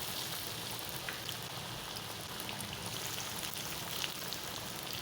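Chicken liver pakoras fry in hot ghee with a steady, close, even sizzle and fine crackle like light rain, continuing without pause and no speech.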